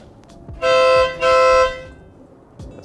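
Two loud blasts of an aftermarket air horn on a Mazda Miata, the first slightly shorter, sound close by over a quiet background.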